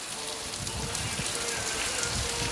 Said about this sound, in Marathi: पाऊस चालू झालाय